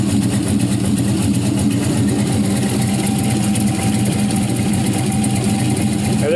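A 6.0-litre LS V8 engine runs steadily at idle with a thick, fat low rumble, loud and close throughout without pauses.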